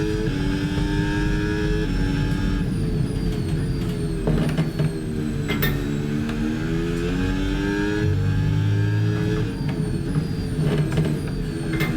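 A Cadillac Formula 1 car engine in F1 26 at the Austria circuit screams steadily at high revs, with repeated gear changes, brief dips and climbs in pitch, and occasional clicks and bumps over the constant drone.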